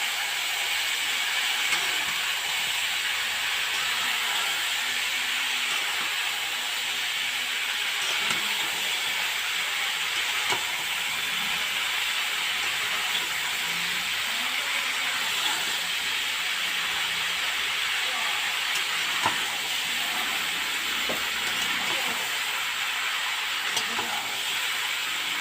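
Ingredients for a Bengali curry sauté together in a pan, giving a steady, even hiss and sizzle that carries on without a break, with no talk.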